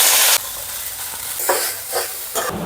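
Food roasting in a little oil over a slow flame until crisp and brown, a steady close sizzle and hiss with a few louder bursts as it is stirred, no voices.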